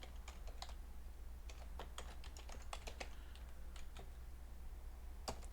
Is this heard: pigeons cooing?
no